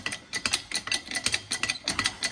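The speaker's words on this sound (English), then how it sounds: "Good old Sealy jacks." A Sealy jack pumped to lift a Ford 8100 tractor: quick, rhythmic metallic ratcheting clicks at close range, repeating steadily with each stroke of the handle.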